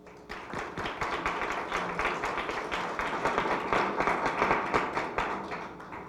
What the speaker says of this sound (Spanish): Lo recibimos nuevamente con un fuerte aplauso.